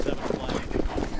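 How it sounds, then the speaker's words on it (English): Horse hooves clip-clop on a racetrack in a quick, steady trotting rhythm, close and fairly loud, with a voice talking over them. "His horse is good on the lead, Nutcracker Sweet."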